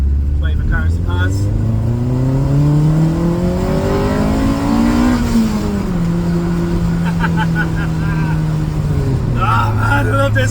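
Honda VTEC car engine revving hard in second gear while accelerating up a ramp, its loud rising whine climbing and shifting pitch for about ten seconds, with faint talk near the start.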